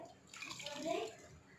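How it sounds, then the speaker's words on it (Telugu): Mutton-soaking water is poured into a cooking pot in a home kitchen, a short soft splash and trickle of liquid lasting about a second, moderately close and fairly quiet. "ఇందాక మటన్ నానబెట్టుకున్న గిన్నె అండి ఇది ఈ కడుక్కున్న నీళ్ళు ఇందులో వేసేసేయండి"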